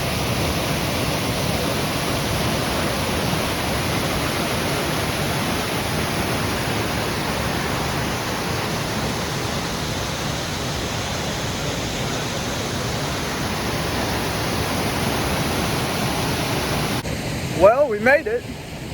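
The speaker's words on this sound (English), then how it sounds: "I don't know if you can hear the waterfall in the background, but we're getting closer." The Sol Duc waterfall roars from a distance on a forest trail in Washington, a broad, steady rushing hiss filling the whole stretch, with a few brief louder handling sounds at the very end.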